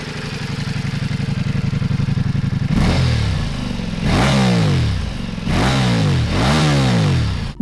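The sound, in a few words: Ducati Multistrada V4 Rally engine with Akrapovic exhaust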